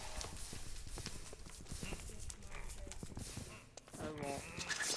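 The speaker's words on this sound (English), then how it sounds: "Expert armored horse." Hooves of an armored horse walking in RLCraft, a steady clip-clop of repeated knocks under a constant noisy game background with occasional chimes, fairly quiet; soft speech also registers.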